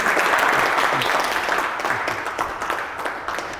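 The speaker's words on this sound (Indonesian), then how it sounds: "Silakan tepuk tangan untuk diri kalian sendiri" Ninth-grade students in a civics classroom clap for themselves, a dense burst of steady applause that thins slightly toward the end, with no talking over it.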